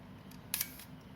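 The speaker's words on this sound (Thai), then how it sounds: "พอเราขึ้นชัตเตอร์มันก็จะเด้งขึ้นมา มันก็จะล็อกได้" Mechanical click of an Olympus 35 DC film camera shutter being cocked and released, a short crisp snap with a faint second click, alone against quiet room hiss.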